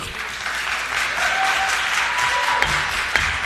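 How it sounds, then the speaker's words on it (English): Steady clapping from the audience at a New Hampshire legislative hearing on a cannabis bill, moderately loud and continuous, with a couple of sharper claps standing out near the end. "No clapping, please."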